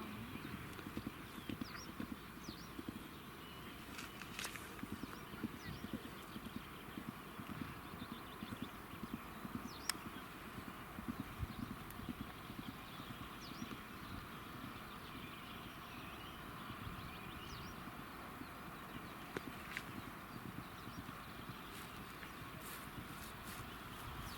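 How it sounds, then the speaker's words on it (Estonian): A horse on a cross-country eventing course outdoors, hoofbeats thudding in a steady rhythm at mid distance over a constant breezy background, with an occasional whinny and no talk. "Järgmisena valmistub Sofia Tšernikova hobusel A-miili"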